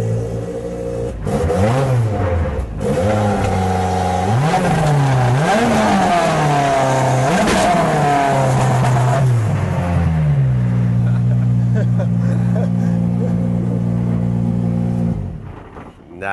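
A turbocharged rally car engine revs repeatedly, rising and falling in sharp bursts, then settles into a steady idle, loud and close.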